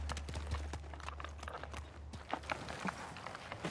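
Horse hooves gallop in the Ghost of Tsushima video game, a rapid, quiet clatter of hoofbeats running continuously under low game ambience.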